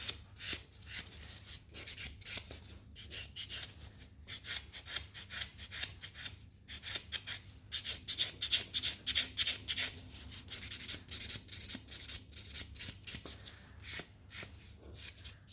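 Buffing a gel-coated natural nail with a file or buffer block, a steady scratchy rubbing that runs in quick repeated strokes throughout, close and moderately loud with no talking.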